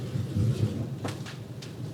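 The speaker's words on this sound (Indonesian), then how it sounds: "Wow, hujan." Steady rain falling outdoors on a morning, with a dense low rumbling wash and a few brief brighter spatters, heard alone with no talking.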